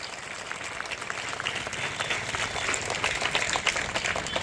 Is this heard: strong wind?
no